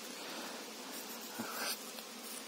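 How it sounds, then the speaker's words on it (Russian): Bees buzzing steadily around a freshly made hive split, shaken in from two frames plus brood frames, a dense close insect hum with no talk. "Струсил туда пчелы."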